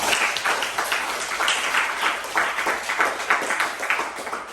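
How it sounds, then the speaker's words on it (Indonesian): Classroom applause as students finish their presentations, a steady, dense wash of many hands clapping close by for several seconds, without talk. "tepuk tangan dulu buat kalian semua"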